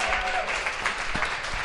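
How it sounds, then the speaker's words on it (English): Applause from the audience on a Bearcat sports chat show, a brief wash of clapping at moderate level with faint voices mixed underneath. "So let's give her a round of applause."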